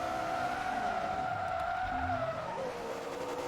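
A race car in Forza Motorsport 2 handbrakes across the finish line, a sustained tire skid and squeal over steady engine drone, loud and continuous.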